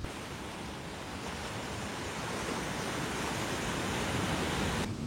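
Steady ocean surf rolls continuously onto a beach, a dense, unbroken wash of breaking waves close by with some wind noise, holding at an even level throughout with no voices.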